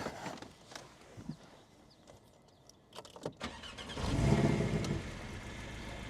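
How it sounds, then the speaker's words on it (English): A 2018 Porsche 718 Boxster with a 300-horsepower turbocharged flat-four engine starts up. A few clicks are followed by the engine catching and swelling into a loud, close roar, which then eases back toward a steady idle. "So let's actually fire her up. And here the 4-cylinder, flat 4, turbocharged engine that produces"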